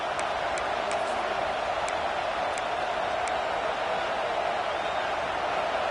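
Steady roar of a football stadium crowd in a Notre Dame versus USC video game, a dense continuous wash of massed voices with a few faint higher whistles or shouts poking through, loud and unbroken throughout.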